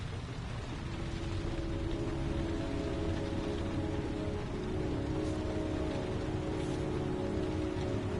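Steady rain falls in the video game Heavy Rain, a dense continuous hiss with a low rumbling undertone that holds evenly throughout, with no voices.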